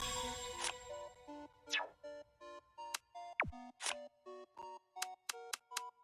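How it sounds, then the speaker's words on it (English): A smartwatch ringtone in the video game Buried Stars: a bright synthetic tune of short repeated electronic tones in a steady rhythm, with a few rising sweeps, close and clear with no talk over it. "Ringtone. A smartwatch ringtone."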